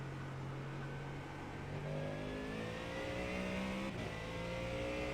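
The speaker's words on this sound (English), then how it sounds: "I keep hearing the car but not seeing it." A race car on the Watkins Glen track during a six-hour race. Its engine drones and revs with rising and shifting pitch at a moderate distance, fairly faint and steady over five seconds, with no talk.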